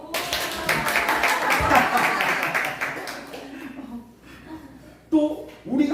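A church congregation applauds in a burst of clapping that lasts about three seconds and then fades, followed by a voice speaking.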